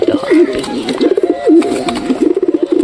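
Mukkhi pigeons coo close by in a series of soft, rolling, warbling calls that repeat several times.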